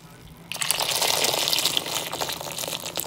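Just-off-the-boil distilled water gushes steadily from a kettle over lemons in a bowl, starting abruptly and pouring continuously at close range for about three seconds.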